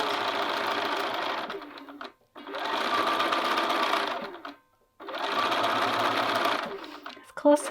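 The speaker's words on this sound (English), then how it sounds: "But you're just gonna sew around." Sewing machine stitching around a long sleeve edge, three sustained runs of fast mechanical whirring separated by brief pauses, close and clear, with a few small clicks at the end.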